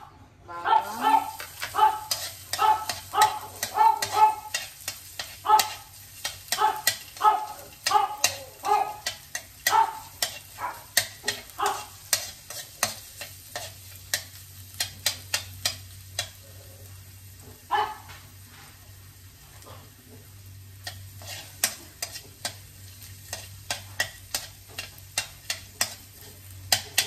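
Garlic sizzling in hot oil in a frying pan, stirred with quick repeated scraping clicks that come in dense bursts early and then thin out to sparser, steady strokes, with a low hum underneath.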